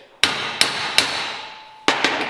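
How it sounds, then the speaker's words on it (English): A metal part of an Incinerator Multi weed burner is knocked into place with a hammer: about six sharp, ringing strikes close up, three evenly spaced, then a pause and a quicker cluster, with no talking. "you may need to give it a tap just to get it where it needs to be."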